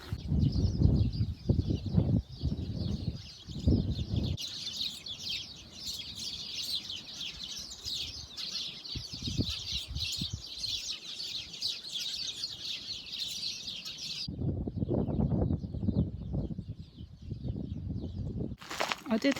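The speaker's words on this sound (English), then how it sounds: "you can hear a lot of birds." A steady chorus of many birds chirps and calls outdoors in spring in Caleta de Fuste, Fuerteventura, Canary Islands, with a person talking over it at the start and end.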